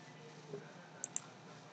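Two quick computer mouse clicks, close and quiet, during video editing in Adobe Premiere CC 2017, over faint background hiss.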